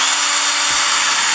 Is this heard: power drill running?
yes